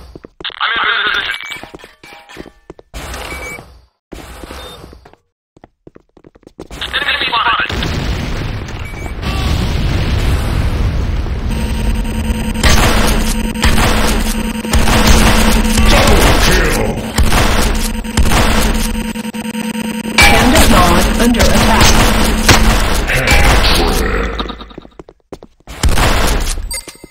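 Explosions and heavy blasts as a Nod Hand of Nod structure is destroyed in the game Command & Conquer: Renegade, loud booming bursts layered with gunfire and crackling debris, sustained for about twenty seconds before tapering off.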